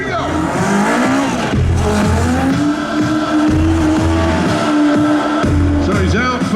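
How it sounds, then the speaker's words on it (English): Terry Grant drives a Legend race car through stunt moves at a motorsport festival, its engine revving and howling while the tires squeal and skid, loud and close, with a commentator talking over it. "The signature car is a legend race car"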